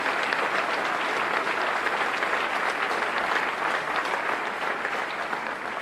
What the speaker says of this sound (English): Let's give a round of applause for all those people who gave their first job